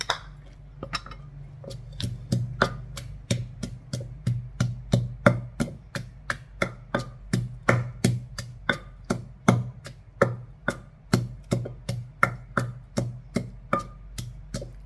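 Garlic pounded in a mortar for a spicy Thai bean salad with crispy pork, a long run of sharp, evenly spaced thuds, close and steady at about two strikes per second, with no talk.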